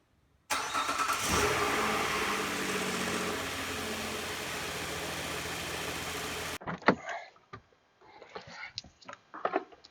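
Car engine starting after a battery replacement, cranking briefly, then catching and settling into a steady idle with a slight rev, loud and close, before cutting off into quieter garage clatter.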